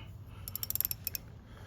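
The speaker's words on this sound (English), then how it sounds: "All right, let's get this filter next here. Use this strap wrench." Strap wrench on the oil filter of a Yamaha 115 four-stroke outboard motor, giving a short burst of quick ratcheting clicks, close and fairly quiet, with no talking.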